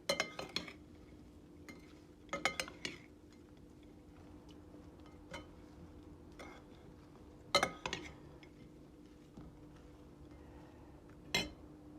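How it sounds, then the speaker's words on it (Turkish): A utensil scrapes and clinks against a pan while Albanian-style liver is stirred with spices, giving sparse, faint metallic taps and small clusters of clinks separated by quiet pauses. "Ve baharatlarını koydum ciğerimizi güzelce karıştırıyoruz."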